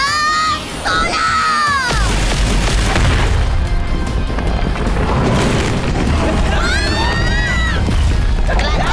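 A cartoon shooting blast from an animated superhero series booms in with a heavy, rumbling roar that sustains for seconds, preceded and followed by swooping, whistling effects and excited character voices.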